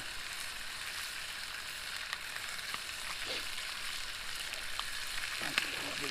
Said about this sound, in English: Takes a little longer to fry up thick bacon